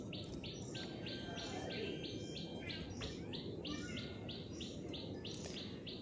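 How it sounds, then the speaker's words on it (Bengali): Birds chirp outdoors in the morning in short, evenly repeated calls that run steadily throughout, set over a constant roar of strong wind. "অনেক বাতাস হচ্ছে আর পাখি ডাকতেছে।"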